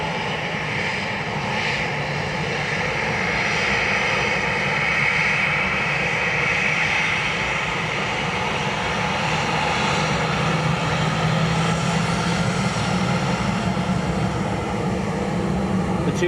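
An SAS airliner arriving from Oslo at Dublin Airport, its engines giving a steady, loud, broad jet roar that holds for the whole stretch with no talking over it.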